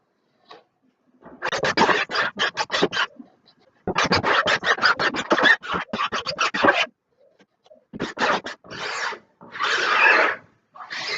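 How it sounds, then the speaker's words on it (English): Excess emulsion scraped off a screen printing mesh for coating nylon bags, rapid rasping strokes in close bursts separated by short pauses, loud and alone. "So you make sure you remove the excess emulsion from the screen."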